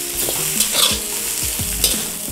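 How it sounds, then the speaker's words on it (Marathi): Hakka noodles are tossed in a hot pan with two spoons, a continuous sizzle broken by a few scraping, clinking stirs of metal against the pan, close and without talk. "आणखी एक सपोर्टला एक दुसरा चमचा घ्यायचा आणि दोघांच्या मदतीने हे व्यवस्थित असं मिक्स करून घ्यायचं आहे"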